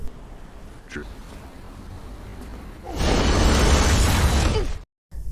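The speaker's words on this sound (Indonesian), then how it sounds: "melempar benda bulat yang ternyata adalah peledak yang langsung seketika meledakkan Guru Chuo hingga tak berdaya" A thrown round bomb explodes in the 2022 film Messy Temple with a loud, broad roaring blast that lasts nearly two seconds and cuts off abruptly, after a quieter stretch with a faint voice.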